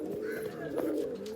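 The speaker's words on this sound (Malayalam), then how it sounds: "ഇതാട്ടോ പ്രാവ്." A domestic pigeon coos close by in a soft, low, rolling call that carries through the whole short moment, with a faint background hum.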